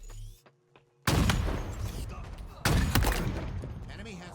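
Sniper rifle shots ring out during a Halo match in a competitive league game: two loud, sharp cracks a second and a half apart, each followed by a ringing decay, with a quieter stretch before the first.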